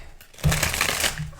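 Tarot cards are shuffled in a reading session, a brief close riffle of papery rustling that starts abruptly after a quiet moment and continues for about a second.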